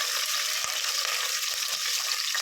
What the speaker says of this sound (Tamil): இப்போ வந்து கட் பண்ணி வச்சுருக்கிற சின்ன வெங்காயத்தை போட்டுக்கலாம். நல்லா வதக்கி விட்டுக்கலாம்.